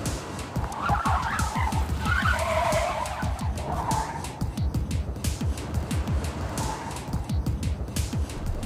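A race car driven by Ben Collins accelerates hard around the Rockingham circuit, its loud engine note rising with rapid gear-linked pulses and brief tire squeal, close and continuous without talk.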